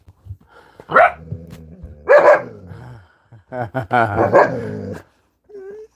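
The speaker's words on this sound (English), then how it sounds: "that's why she was barking at the pup" A dog barks at a puppy in a few sharp bursts, close by, with short pauses between them and a brief whine at the end.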